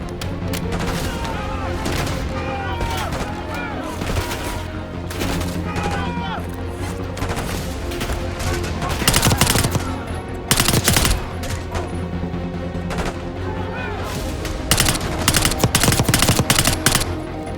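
Heavy automatic gunfire and explosions during a base assault in the Call of Duty Black Ops 6 campaign, sustained bursts with loud cracks and booms, mixed with shouted voices and music.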